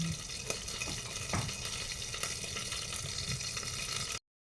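Corned beef being stirred in a sizzling pan, a steady frying hiss with soft scraping and occasional clinks of the spoon, fairly quiet and without speech.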